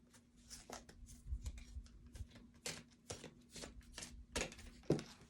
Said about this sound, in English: they're so big it's hard to shuffle